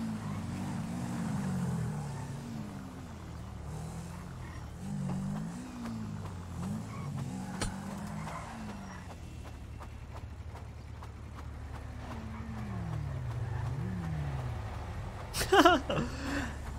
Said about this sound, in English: Wow, we're riding the ATVs now?